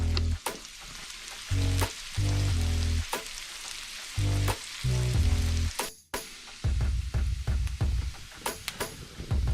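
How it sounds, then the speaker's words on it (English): Previously boiled noodles browning in butter in a pan, a loud, close crackling sizzle with repeated scraping stirs and clattering utensil knocks, swelling and dipping in bursts, briefly cutting out partway through. "we're gonna cook these up and brown them just like those onions"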